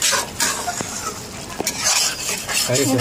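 Spice masala with tomato fries in oil while a utensil stirs and scrapes the pan, giving close clinks and a fitful sizzle in short bursts.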